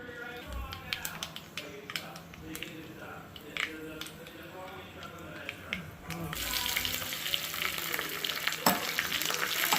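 Mustard seeds sizzle steadily in hot oil while tempering for pulissery, with scattered small pops and crackles, quiet at first and then growing louder and denser, with occasional clinks nearby.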